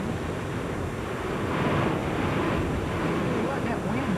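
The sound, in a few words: strong furious wind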